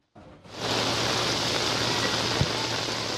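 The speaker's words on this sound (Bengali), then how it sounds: "ভারী বৃষ্টিতে ডুবে আছে কক্সবাজার," Heavy rain pouring over Cox's Bazar during flooding, a dense, loud, steady wash of rainfall that starts abruptly and continues without a break, with no talking.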